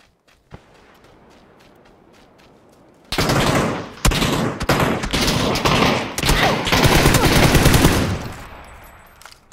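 Video game gunfire: after a few faint shots and footsteps, a sudden burst of loud, rapid automatic shooting runs for several seconds with dense overlapping shots, then tapers off.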